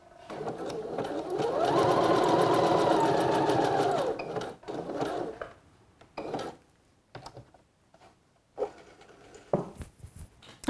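Sewing machine running a seam on a swimsuit, a steady mechanical whir for about three seconds near the start, then stopping, followed by quieter handling noises, thread snipping and small clicks.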